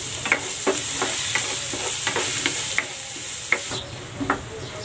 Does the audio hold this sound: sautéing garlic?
yes